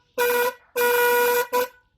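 Electric bicycle horn wired to a current tester, sounding three close honks: two longer blasts and a short final toot, loud and bright with no one talking.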